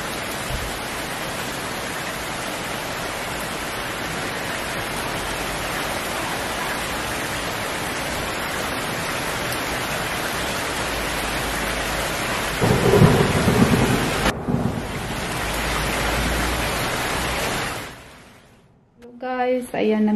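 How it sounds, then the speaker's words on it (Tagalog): Heavy summer rain pours steadily in Sweden with a loud low rumble of thunder midway, the downpour cutting off near the end as a voice begins speaking. "umuulan siya. So mayroon pong 1 week na ulan lang, meron pa siyang kidlat tsaka kulog"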